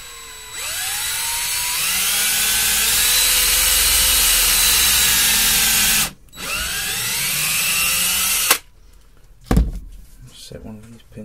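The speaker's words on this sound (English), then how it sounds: "to drill down just by hand" A power drill whirs steadily in two long runs while drilling holes in a rusty vintage Stanley hand plane, pitch rising as it spins up, then stops; a few clunks follow.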